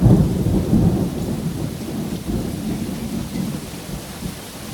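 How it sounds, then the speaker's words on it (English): Hail and rain come down hard in a storm, with a deep, rolling rumble of thunder that is loud at first and fades over a few seconds. "It's hailing, by the way."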